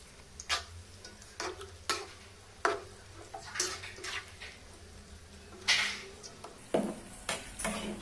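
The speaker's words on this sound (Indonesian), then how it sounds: "ubi yang kita goreng ini" Sweet potato strips fry in oil with sugar for a crispy caramelised snack, a soft background sizzle broken by irregular clicks and scrapes of a utensil stirring in the pan, close by and fairly quiet.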